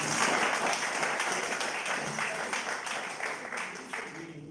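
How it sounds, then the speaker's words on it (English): Clapping from an audience at a Toastmasters gathering, a broad sustained patter of many hands heard at moderate level and slightly distant, gradually thinning toward the end, with no talk on top. "Can we have a round of applause for this?"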